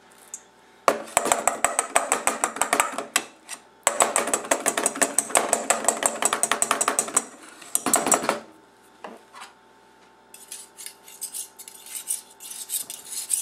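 A metal whisk clatters rapidly against a bowl as it stirs egg and crumbled feta cheese, coming in fast bursts of clicking strokes with short pauses between them and lighter taps near the end.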